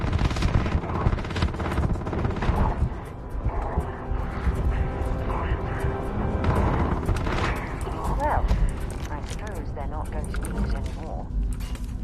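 Pistol fire in the video game Starfield, rapid sharp shots packed densely among explosions and heavy game noise, with a voice talking over the action.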